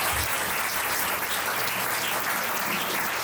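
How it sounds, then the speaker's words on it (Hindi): Congregation at an Easter Sunday church service clapping together, a sustained, even wash of many hands that stays dense and fairly loud throughout. "याद है ताली बजाओ ना"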